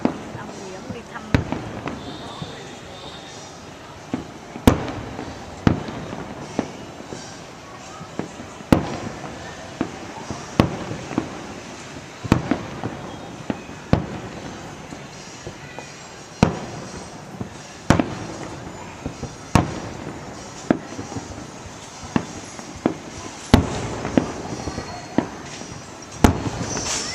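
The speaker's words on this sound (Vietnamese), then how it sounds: "pháo quá trời pháo" Fireworks bursting at a 2012 display near Suoi Tien by the highway in Vietnam, a long run of sharp booming explosions and crackles at irregular intervals, some near and loud, with people talking throughout.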